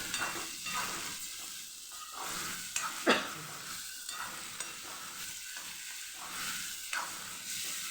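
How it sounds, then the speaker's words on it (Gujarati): Ridge gourd stirred into masala and tomatoes in a hot pan gives a steady sizzle and fry, with repeated scraping stir strokes throughout, close and moderately loud, with no talking. "આપણે તુરિયાનો અહીંયા ઉમેરી દઈશું એને પણ સરસ મસાલા સાથે મિક્સ"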